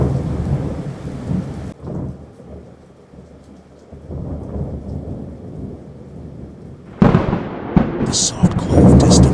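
A thunderstorm at night rolls with deep, booming thunder over steady falling rain, the rumbles swelling and fading before a loud, close crack of thunder and heavier rain surge near the end.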